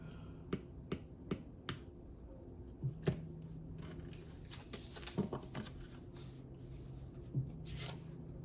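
Tarot cards are cut and shuffled by hand, giving a series of crisp snaps and slaps with soft shuffling rustles between them, close and quiet.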